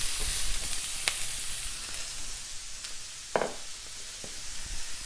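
Apples sizzle in a pan alongside pork tenderloin, a steady hiss close by, with a few brief clinks and scrapes of stirring and no talking.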